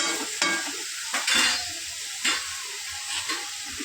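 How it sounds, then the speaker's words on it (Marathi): Cauliflower and capsicum in masala are stirred in a hot pan, a soft continuous sizzle broken by several scraping stir strokes, close and fairly quiet with no talking. "चांगलं हलवून घेऊया, म्हणजे सगळं आपलं ते वाटण आहे ते लागून होईल"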